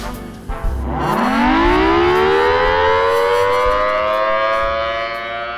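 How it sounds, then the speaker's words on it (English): A civil defense siren in Clay County winds up from a low growl to a loud, sustained wail that holds steady, then begins to fade slightly. "the sirens went off again"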